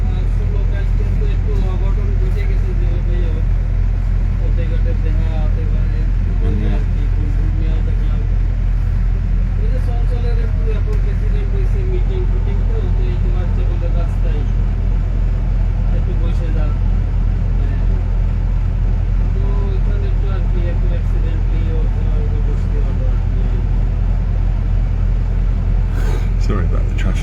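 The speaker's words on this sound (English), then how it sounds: "Sorry about the traffic, guys and girls." London road traffic from the top deck of a bus: a constant low engine rumble and idling drone with passing vehicles, while a person talks over it.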